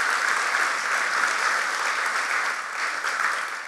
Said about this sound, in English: Please give another round of applause for all of our faculty award winners